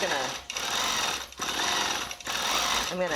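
A longarm quilting sewing machine stitches a quilt-as-you-go block in bursts, a rapid mechanical chatter broken by short pauses, close and fairly loud.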